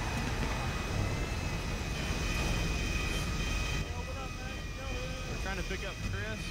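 A plane engine drones steadily in the video game GTA 5 roleplay, a continuous loud hum filling the background while several players talk over it.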